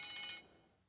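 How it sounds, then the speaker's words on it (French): A lower-pitched tram bell sounds one short, ringing stroke that fades away over the following half second, with no other sounds. "Là, le tramway est adulte."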